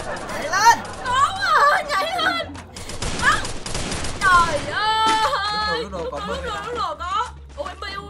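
Rapid bursts of gunfire from the Free Fire mobile battle game, sharp cracks firing in quick succession beneath excited, overlapping chatter from two players talking throughout.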